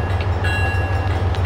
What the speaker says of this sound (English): So now we're driving the Santa Fe train.